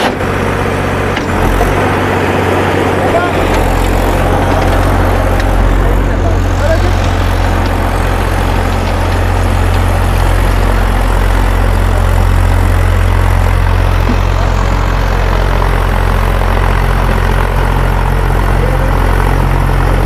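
Massey Ferguson 7250 46 hp tractor running an 8 ft rotavator, a loud, steady engine drone with a deep low rumble that holds close and constant throughout.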